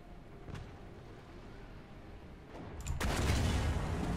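Tank cannon fire in War Thunder against a Panther: a quiet stretch with a couple of faint distant thumps, then a heavy boom that leaves a sustained loud rumble.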